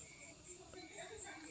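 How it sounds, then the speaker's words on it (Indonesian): Faint, steady high-pitched insect chirping runs through the whole clip, a thin continuous night-time buzz of crickets with soft background noise. "jadi ya terdengar suara jangkrik"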